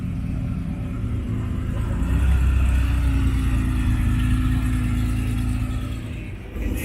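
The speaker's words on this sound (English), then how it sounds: "Ferrari F12." Ferrari F12 engine rumbling at idle with a steady low drone that swells into a modest rev and settles back, heard outdoors with no talk.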